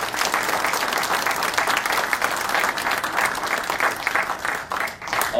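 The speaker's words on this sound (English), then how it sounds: "giving a round of applause. This incredible panel." A dense round of audience applause fills a venue for a panel at a chamber of commerce event, steady and loud throughout with a slight dip near the end.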